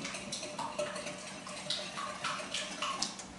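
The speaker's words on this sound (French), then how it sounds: "Je change d'idée, je vais y aller au fouet." A whisk beats pumpkin pie filling in a bowl, producing quick, light, rhythmic clinks and taps of metal against the bowl. Close and fairly quiet, with no voices.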